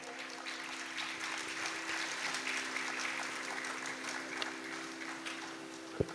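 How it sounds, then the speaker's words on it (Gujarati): A dance recital audience gives a sustained round of applause for an arangetram performer, dense steady clapping filling the hall at moderate distance, ending with a single sharp knock. "તો બિરવાના પરિવાર માટે, બિરવા માટે આપણે જબરજસ્ત એકવાર તાળી થઈ જાય."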